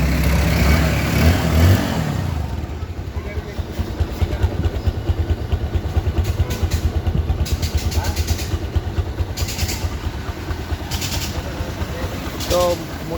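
A Bajaj Discover 135 motorcycle idles nearby in a steady, even putter that carries on throughout, with some handling clatter in the first seconds and a faint chirp near the end.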